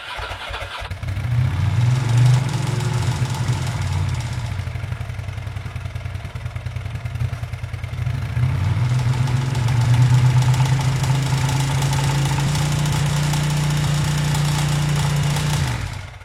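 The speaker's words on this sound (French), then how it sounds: "Et c'est parti, on la démarre avec les DB killers." Ducati Monster 750 fitted with a homemade TIG-welded exhaust and dB killers, fired up and settling into a lumpy, throbbing idle with a couple of throttle blips, close and steady to the end.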